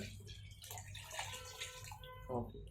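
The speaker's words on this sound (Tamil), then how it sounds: "இப்போ சாதா தண்ணி ஊற்றிக்க போகிறோம்" Plain water is poured into a pot of country chicken biryani, a soft running splash under a person talking steadily nearby.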